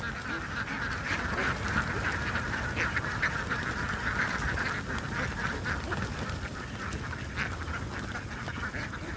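Domestic ducks quack in a dense, continuous chorus at close range, a flock calling steadily throughout before feeding time, with no talk over it.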